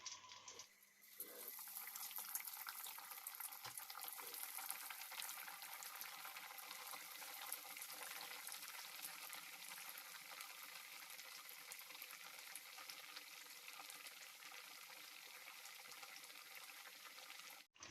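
Breaded chicken pané frying in hot oil in a pan: a dense, even sizzling hiss that starts after a brief clatter and holds steady and close throughout.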